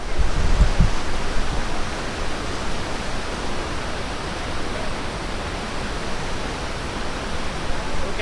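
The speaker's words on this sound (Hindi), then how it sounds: "देख सकते हो जस्ट मेरे पीछे में बहुत ही प्यारा वाटरफॉल है।" The Dhuadhar waterfall at Bhedaghat roars as a dense, unbroken wash of rushing water, loud and steady throughout, with a few faint knocks near the start and no talking.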